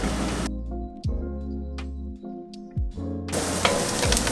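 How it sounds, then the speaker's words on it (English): Loud sizzling and crackling of vegetables sauteing in butter in a hot pan, bursts of frying with brief quieter gaps and a few clinks of a utensil stirring. "There we go, now we're getting the sizzle."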